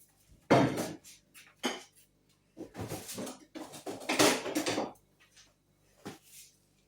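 Clattering and scraping of metal cookware as chopped onion goes into a pan for frying, with several sharp clinks and knocks spread across the moment, close and fairly quiet.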